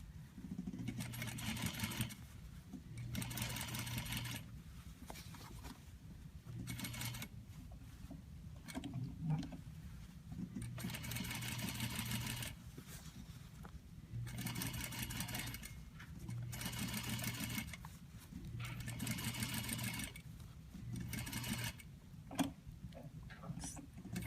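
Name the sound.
sewing machine understitching a neckline facing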